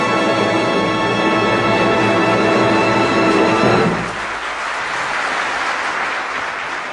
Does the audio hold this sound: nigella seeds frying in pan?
no